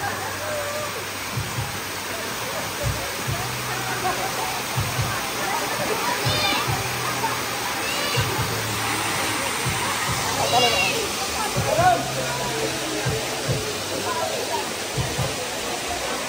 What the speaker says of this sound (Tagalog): Balite Falls.